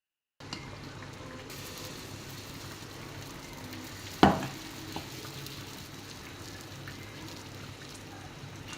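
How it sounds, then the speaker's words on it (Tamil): Okra dosa batter frying on a hot pan, a steady close crackling sizzle that starts abruptly and carries on evenly, with one sharp clack partway through as a utensil touches the pan. "இப்போது தோசை எப்படி சுடுறதுன்னு வாங்க பார்க்கலாம்"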